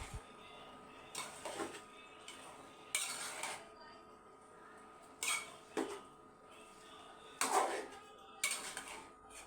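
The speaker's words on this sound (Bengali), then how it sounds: "এখন নেড়ে দিয়ে সবগুলো উপকরণ মিশিয়ে নিব" Tomato, chopped onion and bottle gourd are stirred in a pan for a quick shrimp dish, giving a series of separate scraping and clinking spoon-on-metal strokes at moderate distance, with quiet gaps between them.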